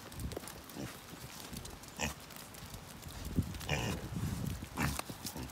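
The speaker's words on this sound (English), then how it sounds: "So let's go ahead and feed these pigs." Pigs being fed on a homestead in the rain, giving quiet, scattered grunts and snorts at close range with a low background hiss and no talk.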